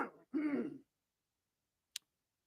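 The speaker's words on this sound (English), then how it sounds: "I'm going to turn down my mic for a second and clear my throat." Someone clears their throat up close in two quick rasping bursts, followed by silence and a single faint click.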